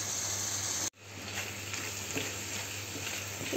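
Potatoes fry in a pan with a steady, close hiss of sizzling oil after a brief break near the start, with faint stirring scrapes toward the end.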